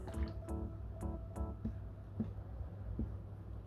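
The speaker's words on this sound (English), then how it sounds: "I'm just going to rinse this off." Small brush rinsed in water while making a miniature moon diorama: faint, scattered drips and soft liquid taps, spaced irregularly, near and quiet, with no voice.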